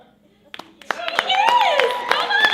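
An audience claps at a live show, starting with a few scattered hand claps that build into steady applause mixed with excited voices over about two seconds.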